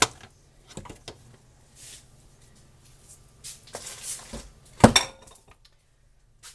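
Bowls and dishes clink and knock on a kitchen counter while a Mexican lasagna is assembled from pantry ingredients, a few scattered close clatters with one sharper bump near the end, no talking.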